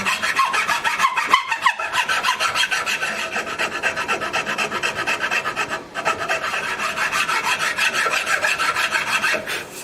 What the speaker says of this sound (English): This one's another double cut file that's even a little smoother.